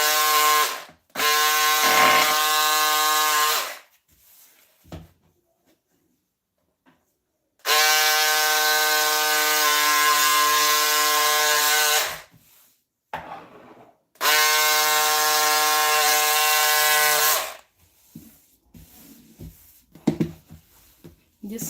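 Shirt fabric is cut for a V-neck in three long, even buzzing bursts of a few seconds each, separated by short quiet gaps with faint handling noises.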